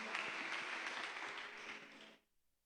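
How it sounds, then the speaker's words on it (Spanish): A church congregation applauds together: steady, dense clapping for about two seconds, then it drops off abruptly into near silence. "Vamos a dar muy grande la ofrenda de palmas"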